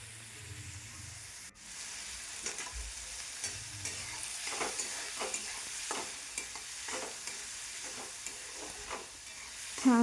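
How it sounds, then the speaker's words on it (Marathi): Chopped onions fry in a pan, a steady soft sizzle broken by repeated rhythmic scrapes and stirs of a spatula against the pan bottom, close and moderately quiet over about ten seconds. "छान कांदा छान सारखा हलवत राहायचं, म्हणजे काय कांदा खालून करपायला नको"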